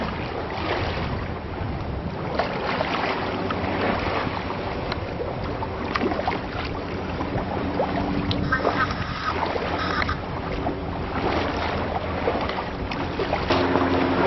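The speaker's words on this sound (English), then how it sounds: "Wind is up a little bit." Wind and water noise aboard a sailboat cruising Pacific Northwest waters at about five knots, a constant broadband rush with buffeting gusts and splashing hull wash, close and continuous.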